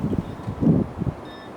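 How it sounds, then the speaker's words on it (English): Strong gusty wind of 15 to 20 mph with gusts up to 40 mph buffets the microphone outdoors, making a deep uneven rumble that swells in a few short blasts. "This is an example of how windy the day was."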